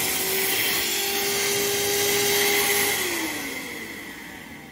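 A VacLife cordless vacuum cleaner runs close up with a steady high whine and airy rush as it picks up debris, its motor pitch sagging slightly toward the end before a brief bump.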